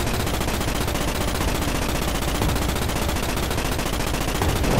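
Relentless automatic gunfire from the video game Starship Troopers, a dense, unbroken rattle of rapid shots at steady loudness from start to finish.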